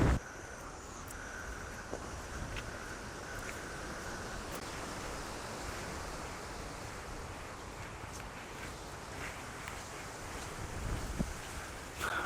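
Strong wind gusting steadily around a tall 12 m antenna mast outdoors, a continuous broadband roar with rumbling buffets on the microphone, swelling slightly near the end, no voices.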